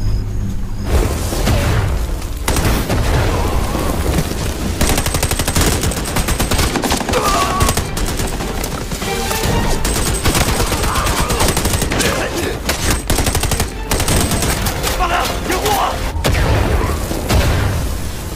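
Sustained gunfire in an action film about an elite sniper team, dense machine-gun bursts and rapid shots mixed with booms, loud and nearly continuous, with voices and score faintly underneath.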